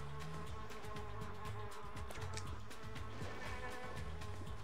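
Bees buzzing steadily around a hive in the video game Spyro: Enter the Dragonfly, a continuous droning hum with wavering pitch filling the background, fairly quiet and without speech.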